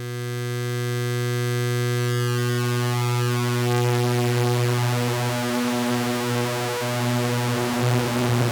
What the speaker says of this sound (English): let's listen to the cloud of saw waveforms.